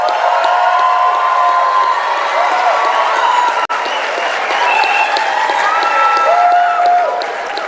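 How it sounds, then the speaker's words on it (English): Graduation ceremony audience applauding, a loud, sustained wash of clapping from a large crowd that carries on without a break and has a few faint voices in it. "give them a round of applause"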